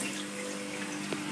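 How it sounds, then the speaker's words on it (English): A Bosch WFF2000 washing machine fills with hot water, a soft, steady rushing flow from the inlet with a faint underlying hum, continuous and quiet with no voices. "Gonna run the hot water."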